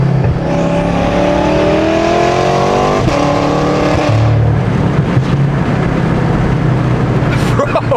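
BMW F10 M5 with a full Valvetronic titanium exhaust revving loud and close, engine tone climbing under acceleration with turbo whine, then easing into a rumbling idle with people talking over it.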